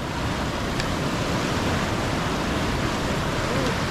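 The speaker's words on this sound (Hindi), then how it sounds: "अभी पानी का फ्लो बहुत तेज है इधर पे" Fast-flowing water on the Dwaki River in India's northeast, heard as a loud, steady rushing roar with no breaks, like nearby rapids.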